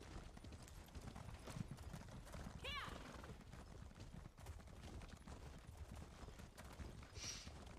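Horse hoofbeats from riding through the wilderness in the video game Morrowind, a steady clip-clop rhythm under game ambience, with a brief high chirp partway through.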